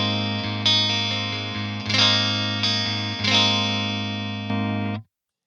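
LTD RZK-III electric guitar on its neck pickup in single-coil voice, sustained distorted chords struck about five times in a rhythmic pattern, loud and close, then abruptly cut to silence.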